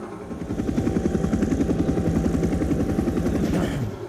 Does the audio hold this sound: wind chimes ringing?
no